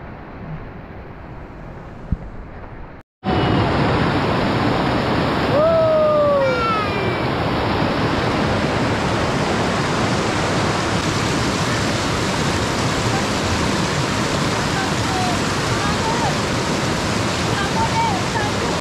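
A jungle waterfall at the Sungai Chilling fish sanctuary roars in a loud, dense, continuous rush after a brief quieter moment at the start, with faint chirping birdsong over the steady water noise.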